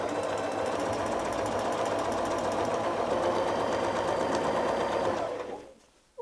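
A quilting sewing machine stitches half circles along a ruler, a close, rapid, even mechanical rattle that runs steadily for about five seconds, then slows and stops, with no talking.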